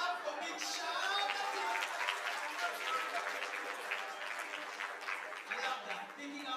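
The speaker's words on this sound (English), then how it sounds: "Let's give him a clap for Big Shout." An audience at a mental wellness and counselling breakfast conference claps for a participant, a modest scatter of applause mixed with crowd chatter and some voices, fading toward the end.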